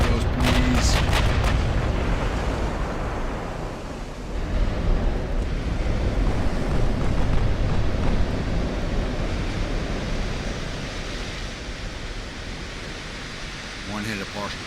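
Warship guns firing high-explosive shells in a naval battle game set in 1890 with Japanese Empire ships, heard as sustained booming, rumbling gunfire with sea-like roar, loud and continuous throughout.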